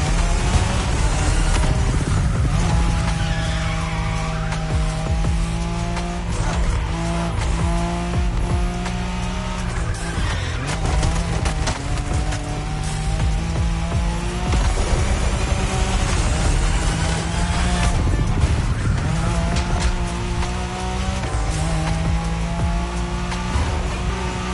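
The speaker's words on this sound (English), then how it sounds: "To drift this bulky bodywork" Car drifting in The Crew Motorfest video game, a loud engine revving and shifting through gears under long, continuous tire squeal, sustained throughout with no talking.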